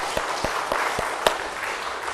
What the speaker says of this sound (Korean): 박수 또 한번.